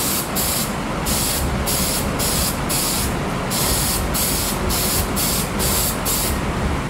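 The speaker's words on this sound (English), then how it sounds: "spray it with contact cement" Contact cement is sprayed onto a piece of leather in a run of loud, close hissing bursts, each about half a second long, separated by brief gaps.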